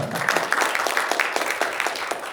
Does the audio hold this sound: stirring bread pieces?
no